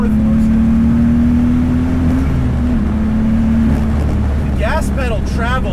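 Turbocharged BMW E30 M3 making about 550 hp, pulling hard in fourth gear with a loud, sustained engine drone rising slowly in pitch, heard from inside the car with a voice speaking near the end.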